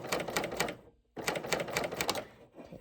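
A serger stitching along a fabric seam while its blade trims off the excess seam allowance, a steady rapid mechanical whirr that stops briefly and then starts again, close and fairly loud.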